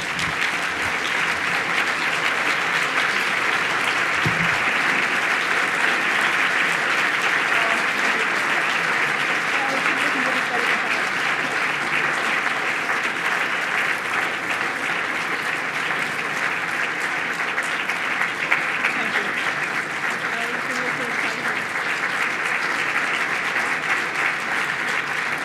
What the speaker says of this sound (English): Please join me in thunderous applause as we welcome her to the stage.